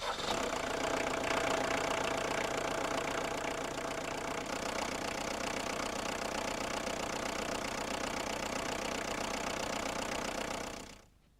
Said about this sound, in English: adjust the idle speed screw until the engine idles at between 775 and 925 revs per minute